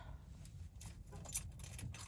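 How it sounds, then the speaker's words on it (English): A ring of keys jangles close by in a brief, busy rattle of light metallic clinks over a low background rumble, with no talking. "where are my keys?"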